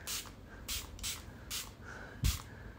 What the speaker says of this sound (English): Can I spray your face?